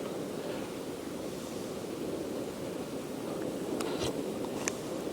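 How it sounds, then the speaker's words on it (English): Wind blows steadily at an outdoor campsite, a constant broad rushing roar close to the microphone, with a few faint clicks near the end. "the wind's getting up now"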